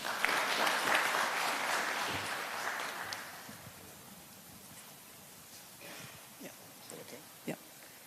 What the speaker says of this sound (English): Please, a round of applause for Mrs. Nyaga.